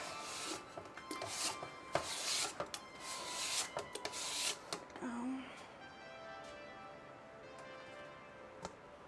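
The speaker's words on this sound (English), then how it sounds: "we're just gonna scrape off this extra clay to reclaim it" Clay being scraped off a pottery bat at a wheel, a run of close, quiet rubbing and scraping strokes with scattered sharp ticks, easing into a softer faint rasp toward the end.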